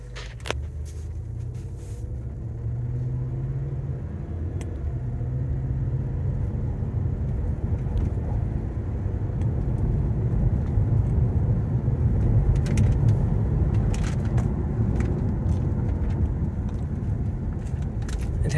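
A 2006 Cadillac DTS Talisman Edition drives along with a smooth, steady low rumble of engine and road noise from inside the cabin. Occasional faint clicks and rustles sound over it.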